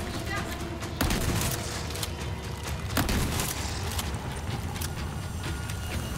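Gunshots in the Resident Evil 4 video game, a dense run of sharp bursts with a few louder cracks standing out, over a constant busy game background.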